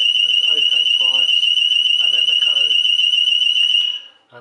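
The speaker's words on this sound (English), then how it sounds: "If you press them simultaneously, they will activate the alarm." A loud, piercing alarm tone blares continuously with a voice talking underneath, then cuts off abruptly near the end.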